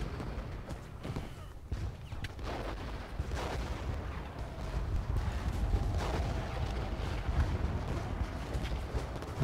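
Artillery bombardment in the Civil War strategy game Ultimate General Gettysburg, at the fight for Cemetery Ridge: a steady, loud rumbling barrage of overlapping booms and cracks that runs without a break and swells slightly toward the end.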